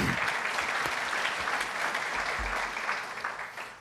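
An audience at a gubernatorial forum applauds steadily, a dense wash of clapping from the crowd that gradually tapers off near the end.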